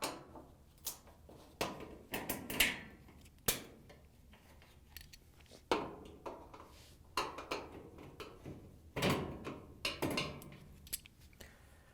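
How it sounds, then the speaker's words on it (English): A Maytag gas dryer's front door being lifted and pulled free of its frame makes a series of close, sharp clicks, knocks and light metal rattles, with scraping in between and no talk. "you can lift up on the door and pull it out of the frame"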